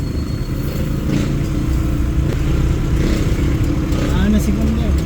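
A Mitsubishi L300 van with a 4N14 diesel engine on a test drive, a steady, loud engine drone and road rumble, with someone talking over it.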